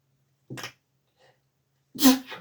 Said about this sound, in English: Oh dear, sneeze on a Monday